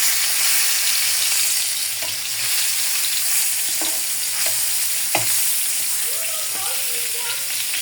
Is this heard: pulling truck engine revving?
no